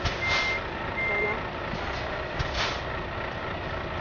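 A Volvo FM13 truck reverses in Euro Truck Simulator 2, its repeated reversing beeps sounding over a low engine rumble at a steady moderate level, with no talking.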